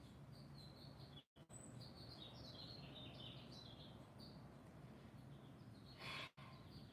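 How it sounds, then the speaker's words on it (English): Birds chirp and tweet in scattered bursts on an evening around six o'clock, fairly faint over a soft background hiss, with two brief dropouts in the sound. "I never hear these birds chirping so strongly."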